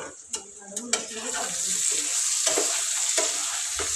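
Bitter gourd fry with a little coconut powder being stirred in a pan, giving a steady close sizzle with a few sharp spatula scrapes and clinks early on.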